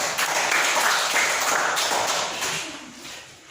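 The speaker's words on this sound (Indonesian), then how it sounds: "Tepuk kelompok 3." A classroom group claps together for group 3, a dense, steady wash of hand claps close by that holds for a few seconds before thinning out near the end, with no talk over it.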